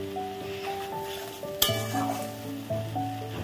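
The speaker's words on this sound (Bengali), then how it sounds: "মশলাটিকে ভালো করে নাড়িয়ে নেব।" Mustard paste masala stirred in a pan over a low gas flame for a chapila (khoyra) fish jhal gives a continuous soft sizzle and scraping, with one sharp metallic clink midway, under steady background music.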